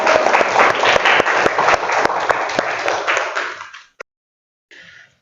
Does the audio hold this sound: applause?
yes